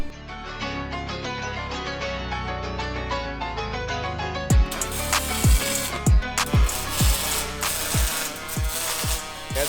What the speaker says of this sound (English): That's the sound of a Fronius is like nothing else